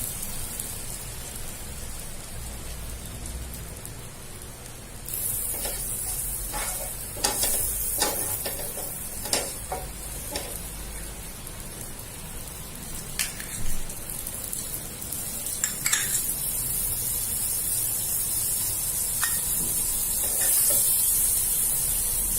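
Curry leaves hit hot oil with cumin seeds over a medium gas flame, a steady close sizzle that swells into a bright, crackling spray with scattered pops and spatters.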